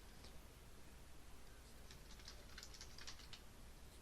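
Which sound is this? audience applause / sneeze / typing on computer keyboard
typing on computer keyboard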